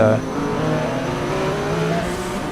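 An IndyCar race car engine heard from a cockpit view drones loudly and winds down as the car slows, its pitch falling steadily over a couple of seconds with no talk.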